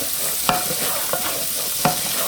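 Garlic sizzling in melted butter inside a Ninja cooking system pot, a close steady fizz broken by a few sharp scrapes of a utensil against the pot.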